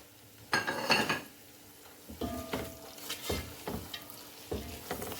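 Chopped tomatoes go into a hot, frying masala for chicken leg biryani, giving a soft sizzle under repeated bursts of spoon stirring and scraping against the pot.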